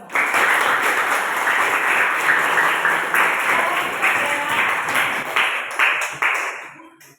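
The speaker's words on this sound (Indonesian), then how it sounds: "Tepuk tangan buat kalian semua." Students in a classroom applauding one another, loud close clapping that fills about seven seconds with slight uneven surges before tapering off at the end.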